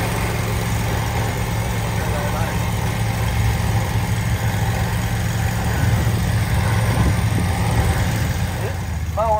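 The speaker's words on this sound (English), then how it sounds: "This mower right here is the autonomous standard DK. This is a mower produced by Wright Manufacturing right here in the USA" A Wright Manufacturing autonomous Standard DK mower sits with its engine idling, a steady low rumbling drone that holds evenly throughout, with people talking faintly nearby.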